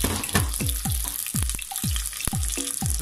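Onions sautéing in a pan for a sea bass ginataan with squash and courgette: continuous close sizzling with soft crackles and a few knocks, fairly loud, with no voices.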